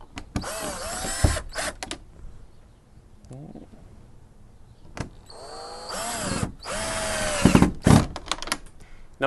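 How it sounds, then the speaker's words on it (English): A power drill driving screws to fix a door latch clasp onto a 2x4, in several short whirring bursts of rising pitch separated by pauses, loud and close. "Now we take our clasp and our pre-drilled holes onto the 2x4, screwing it in."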